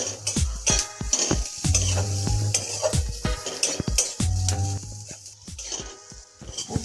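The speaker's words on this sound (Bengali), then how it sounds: "কাশ্মীরি লঙ্কা গুঁড়ো, সামান্য চিনি, সামান্য হলুদ, এটাই ভালো করে নাড়াচাড়া করে নিলাম।" Kashmiri chili powder, sugar and turmeric stirred in a hot pan for Bengali chhanar kofta gravy, with loud repeated scraping and clanking strokes of a spoon against metal over a steady sizzle, close and rhythmic.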